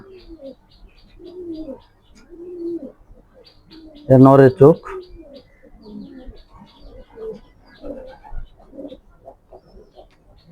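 Racing pigeons coo softly in low, throaty bursts throughout, with a loud flurry of cooing and fluttering midway, while someone talks briefly over them.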